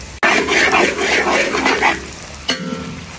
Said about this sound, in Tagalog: Luluto na natin yung labong. Marami pong mantika labong ha.